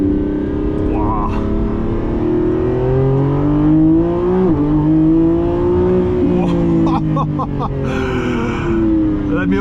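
A 2025 Lamborghini Revuelto V12 heard from inside the cabin while driving, a loud droning engine note that rises and falls as it shifts and revs, with a voice speaking now and then over it.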